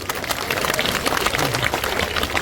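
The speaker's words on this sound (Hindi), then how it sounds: "पीछे की मेरी लाडली बहना ताली बजा रही है" Steady applause from a crowd at an outdoor political rally, many hands clapping continuously and fairly loudly, with a faint voice underneath.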